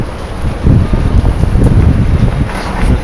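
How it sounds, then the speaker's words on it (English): Strong wind buffets the microphone outdoors, a steady, loud, low roaring rush with gusty swells throughout and no other sounds standing out. "It's getting real windy out here."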